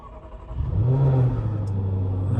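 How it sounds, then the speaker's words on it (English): The supercharged V8 of a Jaguar F-Type SVR cranks and fires up with a rising rev that flares briefly, then settles into a deep, steady idle rumble nearby, with no talking. "we'll start up the supercharged V8"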